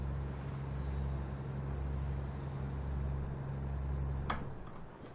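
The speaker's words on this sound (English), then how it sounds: "There you go, you can start to hear the engine purr now." A truck engine in American Truck Simulator gives a low, steady hum throughout with a faint road-noise hiss, and a single sharp tick near the end.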